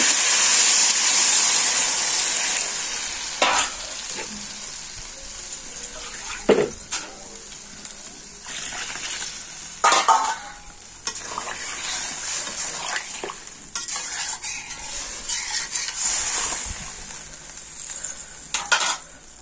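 Dried fish curry frying in a pan in a village kitchen, a steady loud sizzle throughout with repeated scraping stirs of a utensil against the pan.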